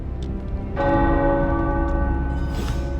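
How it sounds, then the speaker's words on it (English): A church tower bell in the video game Marvel's Midnight Suns rings with a long, resonant tone, swelling in after a quiet start and sustaining with a rich hum of overtones. "tower bells are ringing"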